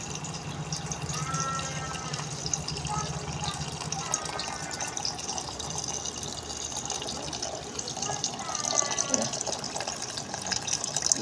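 Water pouring steadily into a container, a continuous splashing rush with a slight rising fill tone, close by in a kitchen, with faint voices in the background.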